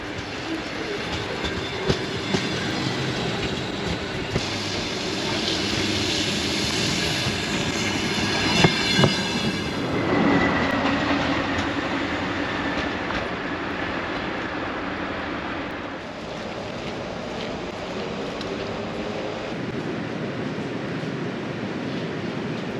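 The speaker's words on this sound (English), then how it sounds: "over here in Latvia, the trains are running on time and as normal" A train rolls past in Latvia, a long continuous rumble of railcars with some clickety-clack and faint wheel squeal, moderately close and steady throughout, with no voices.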